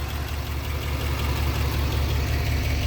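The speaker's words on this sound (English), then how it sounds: "Chevy, big diesel." A big diesel engine in a boxy Chevy Caprice idles steadily at close range, a deep, even low rumble with a faint knocking beat and no talk.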